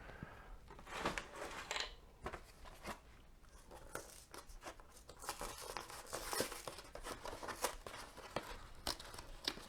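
Thin plastic insulating window film on an old window being cut and crinkled around a blind bracket, giving close, faint rustling, tearing and snipping sounds in irregular bursts, with no talking.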